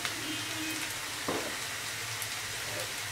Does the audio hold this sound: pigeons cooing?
no